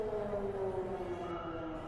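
A civil-defense style alarm siren wails steadily in the Dead Synchronicity game, a sustained tonal drone with a slowly falling pitch, loud and continuous without speech.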